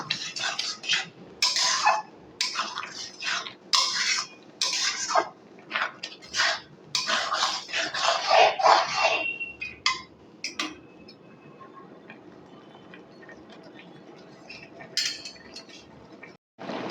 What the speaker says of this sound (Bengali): নারকেলটা দিয়েও কিন্তু আমি ভালো করে একটু নেড়ে চেড়ে দেব